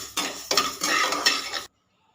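Raw rice and cardamom pods dry-roast in a pan. A spoon stirs and scrapes them with rhythmic rattling, close and clear for under two seconds, then everything falls silent.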